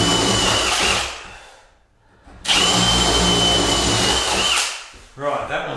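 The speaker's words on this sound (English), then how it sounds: "so we just do that by running the drill up like this." A power drill bores through a hardwood door while fitting a rim lock, running in two long loud whining bursts with a brief pause between, then a short rough spin at the end.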